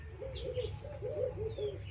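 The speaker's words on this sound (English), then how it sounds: "There's some doves, some frogs, some birds chirping, some cars in the distance." Doves coo outdoors during a quiet meditation, their soft rounded calls repeating in a steady rhythm at moderate distance, with faint chirps and a low steady background rumble of distant traffic.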